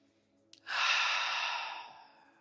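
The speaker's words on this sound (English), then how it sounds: "taking another one of those big, full diaphragmatic breaths, radiant breaths" A single big, full diaphragmatic breath, heard close and soft as a long airy exhale that swells quickly and slowly fades, preceded by a faint short inhale click.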